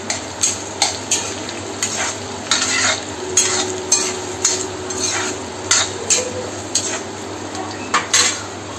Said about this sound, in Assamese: পিঁয়াজটো অলপ ৰঙচুৱা হোৱালৈকে ভাজি ল'ব লাগিব।